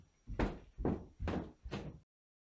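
A door is knocked or handled in four firm, evenly spaced thumps, close and fairly loud, followed by silence.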